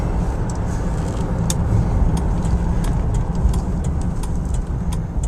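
A 1974 Cadillac Coupe DeVille on the move, its engine and road noise forming a steady, moderately loud rumble with a continuous wash of tire hiss and no talking.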